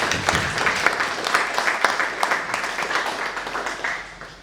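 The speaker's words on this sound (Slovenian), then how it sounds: "ki bo verjetno dobil en aplavz" Applause for a robot at an entrepreneurship day event in Slovenske Konjice, a dense steady patter of many hands clapping in a hall, moderately loud and continuous for several seconds.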